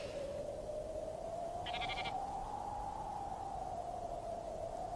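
A single short sheep or goat bleat sounds faintly at a distance over a steady hum and background hiss.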